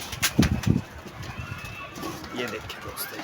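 Old pigeons with red eyes coo in soft, low bursts near the start, followed by fluttering and scattered background noise while someone talks.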